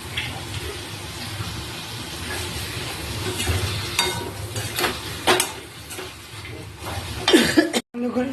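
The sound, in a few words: sautéing cabbage, prawns and potatoes with spices in a pan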